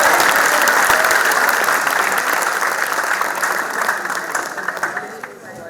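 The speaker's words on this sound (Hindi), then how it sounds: "मैं चाहता हूं सारा सदन जोरदार तालियां बजाए" An audience at a Hindi poetry recital honoring martyrs breaks into loud, sustained applause for a poet, a dense wash of clapping that slowly thins and fades toward the end.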